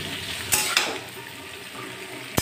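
Potato bhujia frying in mustard oil is stirred with a spatula in a pan, a steady close sizzle broken by a few sharp scrapes and clanks of the utensil against the pan.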